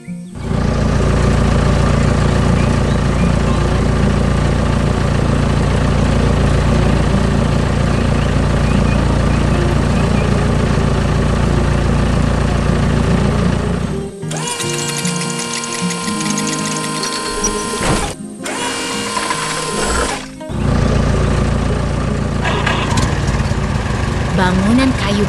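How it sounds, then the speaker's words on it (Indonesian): A green construction machine works hard on brown farm soil, its engine a steady loud drone that runs throughout, with a sharper, busier stretch of clattering and revving midway before settling back into the continuous hum. "Mesin konstruksi hijau sedang bekerja keras di tanah berwarna coklat."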